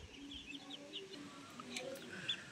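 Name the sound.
white layer hens clucking in a farm shed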